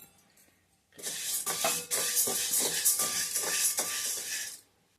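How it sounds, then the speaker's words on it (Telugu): Lentils dry-roast in a pan on the stove with a dense, rattling scrape. The sound pulses for about three and a half seconds, then stops abruptly, with near silence before and after. "స్టవ్ సెమి మీద పెట్టుకొని పప్పులను కొంచెం దూరగా వేయించుకోవాలి"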